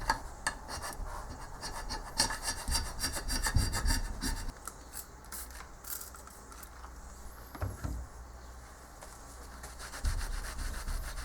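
Hand scraping a newly cast metal carriage casting, a steady rasping, scratching stroke repeated close up at moderate level with no talk.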